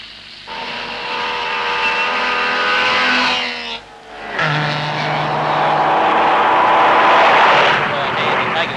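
A rally car races flat out along a gravel road at the 1966 Southern Cross Rally, its loud engine droning and rising, dropping briefly at a gear change before surging again, with a voice over it.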